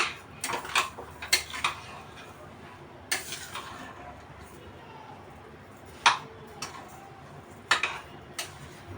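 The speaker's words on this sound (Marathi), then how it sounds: "मिक्स करून घेते एकदम छान असं एकदम छान मिक्स झालंय" A spoon scrapes and clinks against a pot while sweet halwa is stirred: scattered sharp metallic knocks spaced irregularly over a soft, quiet background.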